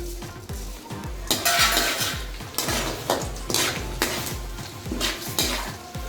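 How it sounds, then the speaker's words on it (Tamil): Cashews and white sesame roast in ghee in a pan, heard as a ladle scraping and clanking against the metal in quick repeated strokes over a soft sizzle. "ரெண்டையும் நல்லா வறுத்துட்டு சூடு பறக்க நெய்யில வறுத்த முந்திரி பருப்பு, வெள்ளை எள்ளு,"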